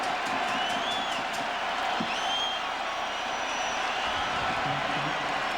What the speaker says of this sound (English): Fans are starting to feel it here, Bobby. You can hear the buzz going through the crowd.